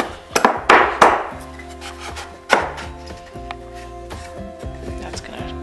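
Wooden dividers are tapped and knocked into a wooden wine holder, several sharp close wooden clacks early on followed by lighter knocks and rattles.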